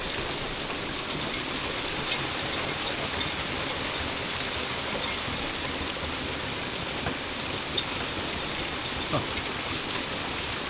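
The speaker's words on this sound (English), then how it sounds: "rain coming off the roof." Rain and hail pouring off a roof, a steady, loud broadband wash of water with scattered small impacts running without a break.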